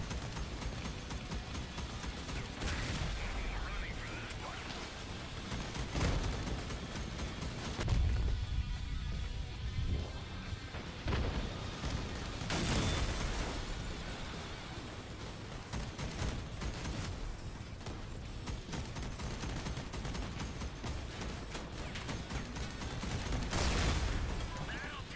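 Cannon fire and explosions in a vehicle combat game, recurring heavy booms and crashes spread across a long stretch of chaotic battle noise, with a voice talking throughout.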